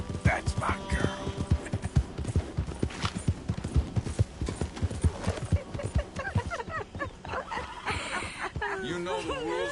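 Horse hooves clip-clopping steadily in Red Dead Redemption 2, followed by a whinny and snorting near the end, with a voice talking over the ride.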